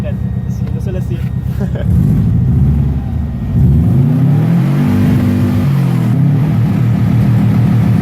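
A Subaru engine revs hard and makes flat-foot shifts, the droning note climbing and cutting in quick steps. It is loud and close, and voices talk over parts of it.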